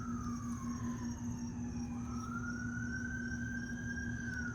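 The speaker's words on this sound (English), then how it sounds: "We got a siren in the background now" An emergency siren wails in the distance, its pitch sliding down and then rising again over a steady background hum, with no talking.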